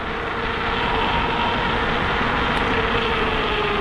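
An Angwatt C1 2.0 electric scooter climbs a hill under hard acceleration: a dense, steady rush of wind and road noise with a faint, thin motor whine running underneath.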